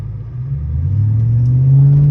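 A BMW car engine rumbles loudly and steadily, its low growl building slightly in intensity as it revs up. No voices.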